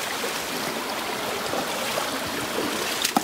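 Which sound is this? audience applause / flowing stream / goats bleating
flowing stream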